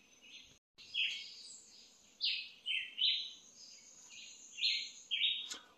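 Several birds call in a rainforest during a jackfruit hunt, bright chirps and short tweets arriving in spaced bursts over a quiet background of faint insect hum, moderately close and with no talking.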